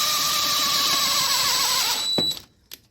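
A power drill whines steadily and loudly in the engine bay of a Civic with a G23 VTEC engine swap, then spins down and stops abruptly, followed by a couple of light clicks.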